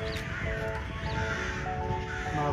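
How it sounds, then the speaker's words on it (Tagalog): Crows caw repeatedly in a Brussels park, faint and somewhat distant over soft background ambience. "Mga crow."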